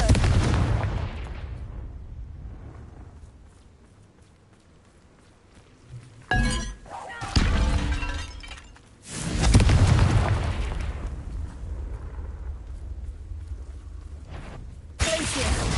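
Blasting spells in the Hogwarts Legacy game explode in loud bursts, several booming, crackling blasts separated by brief lulls, with a final explosion at the end.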